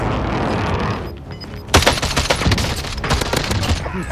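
In a Warzone battle royale match, a precision airstrike lands as a rapid, loud volley of sharp explosive bursts that starts abruptly and keeps pounding for a couple of seconds over background gunfight noise.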